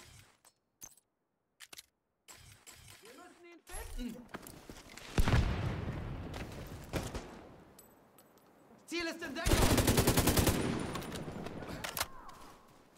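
Gunfire during an enemy attack in The Division 2 on PlayStation 5, with bursts of rapid shots and booms swelling in loud waves between quieter gaps, no talk over it.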